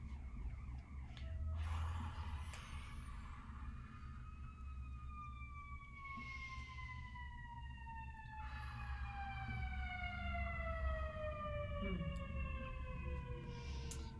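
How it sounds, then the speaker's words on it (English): A wailing emergency siren passes outside, its long sweeping tones gliding down in pitch as it goes by, heard at a moderate distance over low traffic rumble. "We just cued a siren together."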